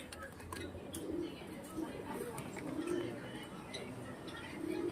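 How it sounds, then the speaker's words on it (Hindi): Soft, low coos from German Beauty Homer pigeons repeat every second or so among background murmur and faint rustling, with a voice talking quietly. "ये देखो दोस्तों, ये पूरा कबूतर है।"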